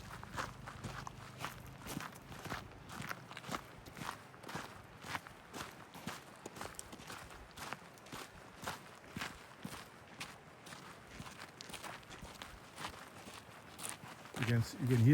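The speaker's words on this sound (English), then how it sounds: "You can hear the sound of the footsteps on the gravel." Footsteps crunch steadily along a gravel path in a rural mountain village, a continuous walking rhythm heard close, with some talk in the background.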